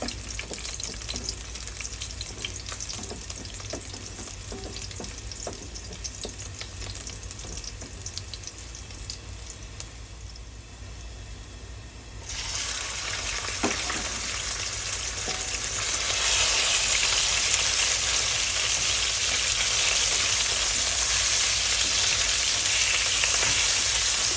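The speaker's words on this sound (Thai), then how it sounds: "น้ำมันทอดพอดีก็เอากระเทียมลงนะ" Garlic hits hot frying oil and sizzles steadily, the crackle jumping louder and brighter partway through and then holding a dense hiss to the end, close up with no talk.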